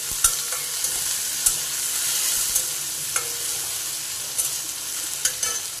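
Browned onion and freshly added tomatoes fry in a pan for a dried shrimp chutney, a steady bright sizzle broken by sharp, regular clacks of a spoon stirring against the metal, with no voices.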